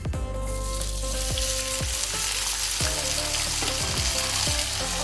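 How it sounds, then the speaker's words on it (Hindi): Potatoes sizzle loudly in hot oil in a kadhai for soya aloo, a dense, close crackle running throughout, with a few soft knocks and a faint steady hum beneath. "तेल को थोड़ा गर्म होने देंगे। इसमें आलू डालेंगे।"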